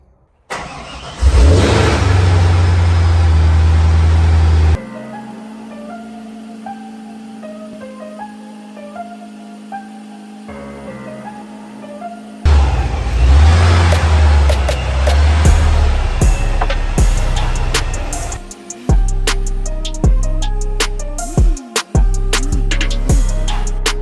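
Cars are started and moved out of a garage: loud engine starts and deep idling rumble alternate with quieter pauses, then revving and shifting engine noise near the mic, with no talk.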